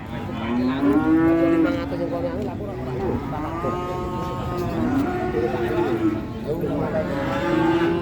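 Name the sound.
cattle mooing at Jetis Ponorogo cattle market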